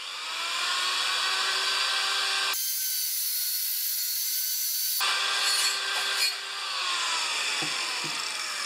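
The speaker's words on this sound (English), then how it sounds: "I'm going to clean the carbon off this ever so lightly. This is a wire brush" A wire brush scrubs carbon off the head of a 6HP Craftsman mower engine, a steady close rasping rub that continues with a brief pause and a few small knocks near the end.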